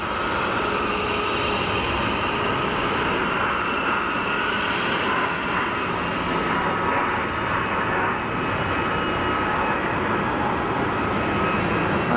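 A Turkish Airlines A320neo jet rolls for takeoff at Geneva Airport, its engines giving a steady, loud, broadband roar that holds level throughout, heard from a distance with no talk.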